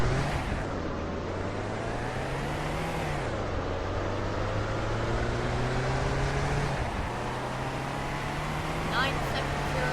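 A car in a video game accelerating from 0 to 60, its engine tone climbing steadily and dropping briefly at each gear shift, heard under continuous background noise.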